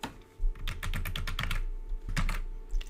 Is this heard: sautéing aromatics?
no